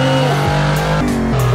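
A Brabus GT900 accelerates in a Roblox driving game, its synthesized engine tone climbing in pitch through quick gear shifts, loud and close with no voices.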